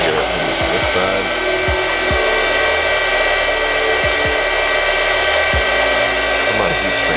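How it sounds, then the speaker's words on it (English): Heat gun blowing a steady, loud airflow throughout while shrinking heat-shrink tubing over JST connectors, with faint low clicks and handling underneath and no speech. "we really need to heat shrink them anyway"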